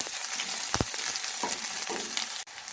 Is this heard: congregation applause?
no